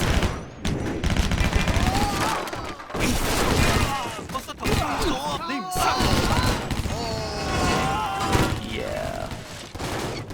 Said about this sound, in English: Apparently, shooting forward is completely possible while you're holding your gun sideways.